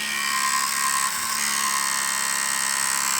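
A cryptocurrency mining rig with RX 580 8GB graphics cards running, its fans giving a steady, dense high-pitched whir with a low electrical hum underneath, constant and fairly close.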